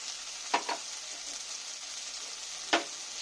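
Quiet, even sizzle of a spice paste with chili powder and turmeric frying in a wok, broken by a few sharp scraping stirs.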